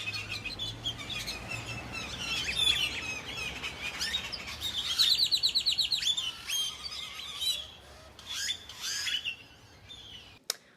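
Several birds in the trees calling back and forth, a lively mix of chirps, tweets and squawks at moderate distance, with busier bursts midway and a quieter tail.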